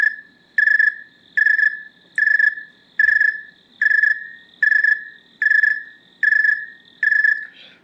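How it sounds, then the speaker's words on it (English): A single snowy tree cricket chirps in a steady, evenly spaced rhythm, about ten clear pulses, loud and close against near silence. "We take one snowy tree cricket sound and then move in and out and change the pitch of it"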